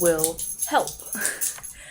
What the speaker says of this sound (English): that's my dog insisting she wants attention